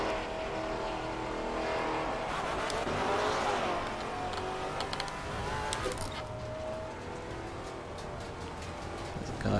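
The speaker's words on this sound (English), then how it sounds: "There's a car coming." Race car engines from the GT4 racing game Assetto Corsa Competizione at Misano drone steadily. Another car closes in and sweeps past midway with a rising then falling pitch, over a constant engine hum.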